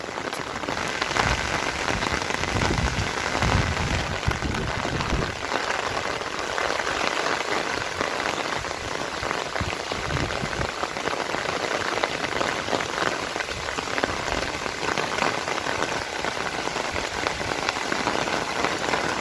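Steady rain falls on open farmland and the ground, a continuous dense hiss of drops that stays even and fairly loud for the whole stretch, with no voices.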